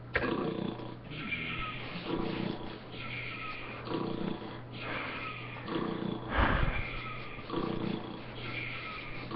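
Slow, rhythmic snoring with a rasp in a trucker driving video game, repeating roughly every two seconds over a faint steady hum, slightly muffled and low in quality.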